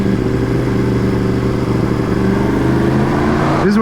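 A Yamaha FZ-10 motorcycle roars steadily while ridden, its engine note holding loud and close with a quick-shifter gear change near the end, no talking.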